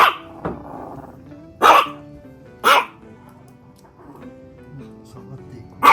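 A toy poodle barks at a turtle indoors, giving sharp, close barks, one early and two more in the middle, with a final bark at the end and a low voice in between.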